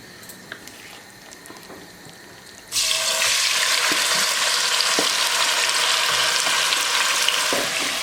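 Chicken pieces drop into hot oil for biryani and a loud, steady frying hiss takes over after a quiet start, continuing close and unbroken with small crackles throughout.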